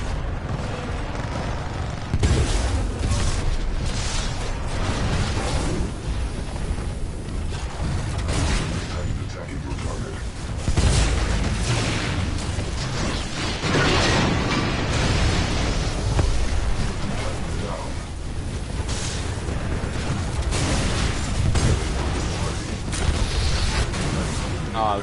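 A thermite incendiary trap burning and exploding in the video game Titanfall 2: a continuous loud roaring, crackling hiss with repeated heavy booming bursts throughout.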